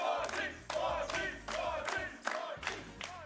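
A small crowd at a summer speedrunning marathon cheers in about six loud, rhythmic shouted bursts for an EyeToy Play 2 run, with brief pauses between each roar.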